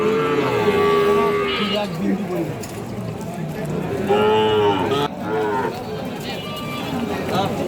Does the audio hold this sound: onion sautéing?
no